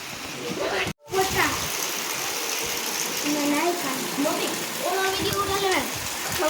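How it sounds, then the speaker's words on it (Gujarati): Monsoon rain pours steadily, making a dense, continuous hiss on surfaces, with people talking nearby. "વરસાદ ગાજે છે ને વરસે છે જાણે અત્યારે ચોમાસું બેસી ગયું"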